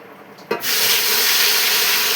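Tomato, onion, ginger and garlic gravy hits hot oil in a pan with a sudden splash, then a loud, steady sizzle holds close and unbroken.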